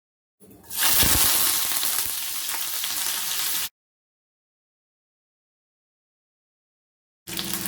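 Bay leaves hit hot oil with a loud burst of frying sizzle that holds steady for about three seconds, cuts off, then returns briefly at the end; no voices are heard.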